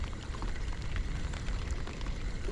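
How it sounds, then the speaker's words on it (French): Heavy rain pattering hard and close while fishing, a dense continuous rush with a low rumble underneath, no talking. "La pluie qui revient."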